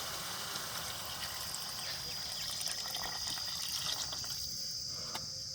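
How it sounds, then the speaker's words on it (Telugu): Water is poured into a pot of country chicken curry as a faint, steady, continuous gush and trickle, without pauses or voices. "నీళ్ళు యాడ్ చేసి ఉడకపెట్టుకుందాం"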